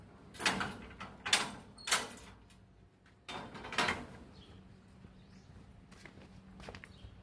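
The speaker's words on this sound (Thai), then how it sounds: "ประตูด้านหน้าเปิดได้นะครับ" A motorcycle sidecar's front door is opened, giving a few sharp knocks and clatters of metal on metal in quick succession, followed by quieter handling sounds in a calm setting.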